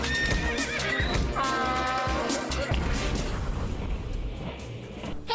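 A horse gives a loud, wavering neigh that rises and falls, with thumps and crashing noises around it and a brief voice in the background.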